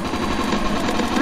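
Rapid automatic gunfire in the Roblox Zombie Uprising game, a loud and continuous burst of clattering shots running under an excited player's voice.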